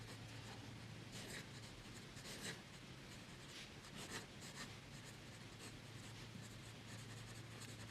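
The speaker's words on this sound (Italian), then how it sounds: "Questa è una stilografica." Fountain pen nib scratching across paper while writing with Aurora Blue ink, a soft continuous scritching with brief stroke accents, close and quiet.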